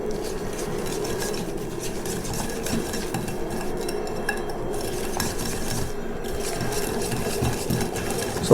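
Sugar and ghee are stirred together in a bowl for butter biscuits, giving a steady, continuous scraping and mixing sound that runs through the whole stretch with no talking.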